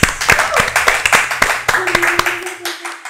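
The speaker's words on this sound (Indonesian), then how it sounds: "Minta tepuk tangannya dong, guys." An audience claps for two guests introduced on an Indonesian talk show, with sharp, irregular hand claps spread across a few seconds and fading near the end, alongside background voices.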